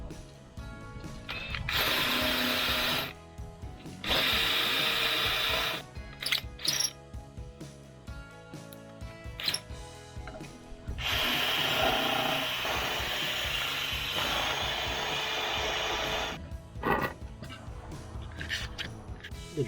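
Power drill boring a hole through galvanized metal for stair construction, loud whirring bursts separated by short pauses and clicks, heard alone.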